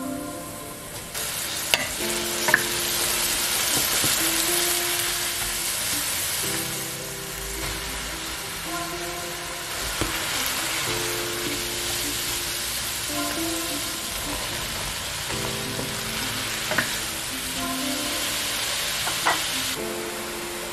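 Onions frying in a pan for a Michelin-style ratatouille, a steady sizzle with occasional stirring and clinks of a utensil against the pan, running continuously without speech.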